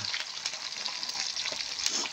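Tomato, onion and chili frying in oil, a dense continuous sizzle with faint crackles and spattering, close and steady with no voices over it.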